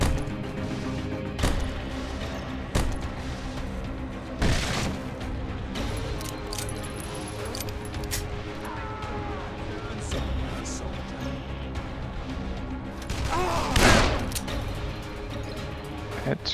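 Enemies firing guns at the player in Dead Island, scattered sharp gunshot cracks and thuds at irregular intervals amid game sounds, with someone talking over them.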